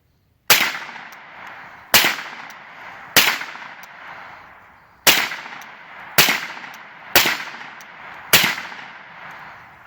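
A CZ Scorpion Evo 3 S1 carbine fires seven loud, sharp shots at uneven intervals outdoors, each crack ringing off in a short decaying tail before the next.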